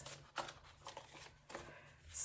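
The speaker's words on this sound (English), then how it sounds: "So I'll give this one more shuffle" A deck of ancestor message cards being shuffled at close range, giving a few quiet riffling and sliding bursts of card noise alone, with a soft hum underneath.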